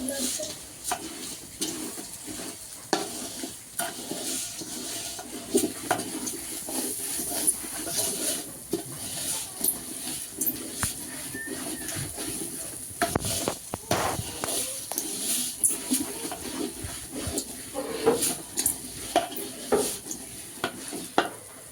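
Rice for pilaf (polao) being stirred and fried in a pot, with irregular scraping and clinking strokes over a soft sizzle, close and moderately quiet throughout.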